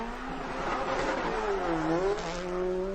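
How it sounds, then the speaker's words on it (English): A car drifts through a tight parallel-parking slot, its engine giving a steady revving drone whose pitch dips and rises over three seconds, with a faint tire squeal, loud and close, with no talking. "Parallel park drift."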